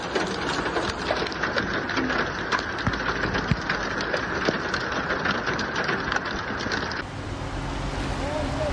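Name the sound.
heavy rain during a thunderstorm in Saudi Arabia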